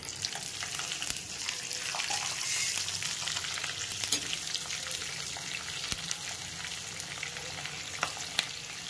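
Urad dal, chana dal and green chilies fry in hot oil, a steady crackling sizzle with occasional sharper pops and scraping stirs, close and continuous with no voices.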